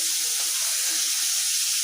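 Pabda fish coated in cornflour fry in a wok with a loud, continuous crackling sizzle, steady and close for the whole stretch, with no talking.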